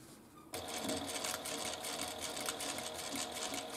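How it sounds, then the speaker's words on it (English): Sewing machine top stitching along a wristlet seam starts suddenly after a brief quiet moment and then hums steadily with a fast, even needle rhythm close up. "we're just going to follow the seam and top stitch"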